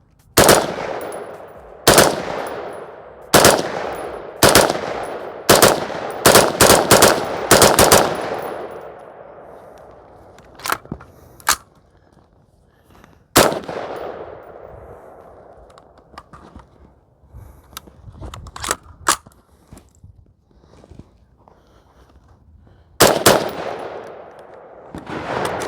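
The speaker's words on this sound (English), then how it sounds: "I'm gonna shoot it again and see what happens." A homemade gun fires in binary mode at an outdoor range: loud, sharp shots in rapid paired bursts, then a pause, a few scattered single shots and a final burst, with no talking.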